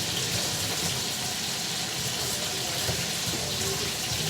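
Eggs are rinsed under a running kitchen tap, a steady broadband gush of water that carries on without a break for the whole stretch, close and fairly loud, with no talking over it.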